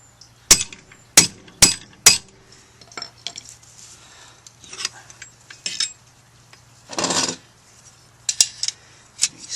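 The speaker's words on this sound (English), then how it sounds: "let's give it a couple more whacks" A hammer strikes a metal Jeep Wrangler YJ hood lock bracket to bend it, with four sharp ringing whacks in quick succession, then lighter taps, a brief scrape and a few more metallic knocks, all close.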